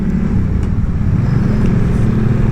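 City street traffic in Olongapo heard from an FKM Coolser 500 motorcycle, a steady loud low engine and road rumble with passing vehicles, continuous throughout with no talking.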